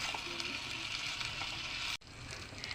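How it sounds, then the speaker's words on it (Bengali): Pointed gourd fries with turmeric in a pan, giving a close, even sizzle that briefly cuts out near the end and then resumes. "আমি এখন এটাকে লাল করে ভেজে নেব।"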